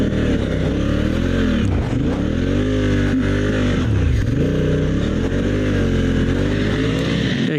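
A dual sport motorcycle on Pirelli Scorpion Rally tires roars loudly through super soft sand, its engine rising and falling in repeated revving swells as it churns close by, with no talk.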